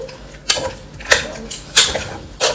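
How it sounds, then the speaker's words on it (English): A spoon stirring curried turkey neck in a pot gives four loud, evenly spaced scraping clanks against the metal, close up and with no talk over them. "Just use a spoon and stir it. Stir everything around it now."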